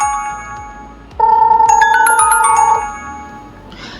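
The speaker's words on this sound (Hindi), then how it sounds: "यू कैन सी इमीडिएट हमारे मोबाइल के ऊपर यहाँ पर कॉल आ जाता है" A mobile phone rings with an incoming call triggered by a Dahua Hero B1 wireless camera, a loud steady electronic ringtone lasting about a second and a half that stands out over quieter background noise, with no talking.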